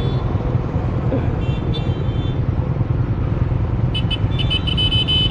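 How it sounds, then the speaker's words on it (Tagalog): Car horns honk in short bursts over a loud, steady rumble of heavy road traffic, with the horn blasts clustering toward the end. "Tingnan daw sir na nagbubusinahan na lahat to."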